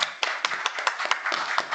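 Applause for a speaker at the close of a talk on public officials' duty to object to illegal orders: a small audience giving a short, sparse clatter of individual claps, close and moderately loud.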